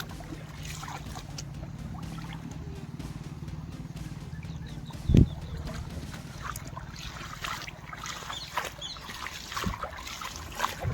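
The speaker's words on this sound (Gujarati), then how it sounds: "પાણી તમે જોઈ શકો છો મસ્ત એક મસ્ત રીતના વહી રહ્યું છે" Irrigation water runs steadily through a field channel among millet plants, a continuous low rushing wash with a faint hum beneath and one brief thump midway; no one speaks.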